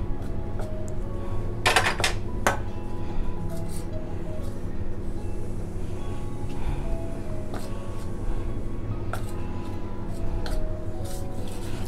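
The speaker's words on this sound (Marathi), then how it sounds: "हे तेल हळूहळू आपण ह्या पिठामध्ये ओतून घ्यायचं आहे आणि परत सगळ्या पिठाला आपण हे तेल लावून घ्यायचं आहे" Oil being worked into flour dough in a bowl, with intermittent clinks and scrapes of a utensil against the bowl over a steady low background hum.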